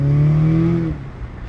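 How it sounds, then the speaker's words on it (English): A 2020 Audi S3 8V engine on a full-throttle pull, a loud, close rising drone heard from inside the cabin that climbs for about a second before easing off. "you join me inside the Audi S3 and let's just do one pull now and hear the sound"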